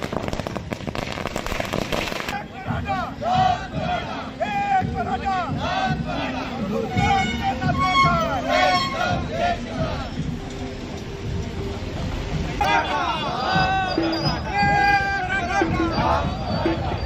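Crowd of Jarange supporters celebrates in the street with loud chanting of slogans and a continuous babble of voices, with scattered cracker pops under the cheering.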